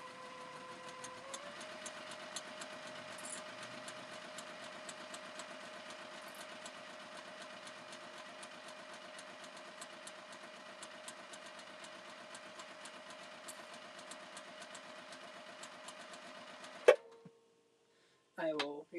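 Sewing machine runs a steady, even stitch along a quarter-inch fabric seam on a scrunchie, holding a constant mechanical hum for most of the stretch before stopping abruptly, followed by a few faint handling clicks.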